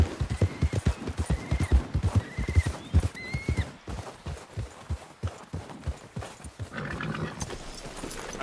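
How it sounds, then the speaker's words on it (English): Horse in the Red Dead Redemption video game whinnying several times in a row, with clip-clopping hooves throughout, fairly close and loud, then hoofbeats continuing alone toward the end. "Will you stop messing around with that horse?"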